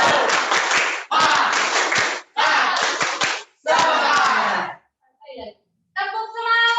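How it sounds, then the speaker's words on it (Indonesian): A group of children in a classroom performs a rhythmic spirit clap (tepuk semangat), with bursts of clapping and chanting voices in short, evenly spaced phrases, followed by a brief pause and a few spoken sounds. "Tepuk semangat dulu sebelum kita lanjutkan."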